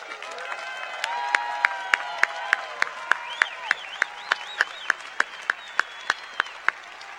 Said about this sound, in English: Please join me, graduates, in saying thank you and applauding their commitment.